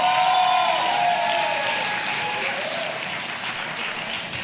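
A crowd at the Destiny Fight Night 3 OktoberFist combat bout applauds loudly and continuously after the fight, slowly fading while an announcer talks over it.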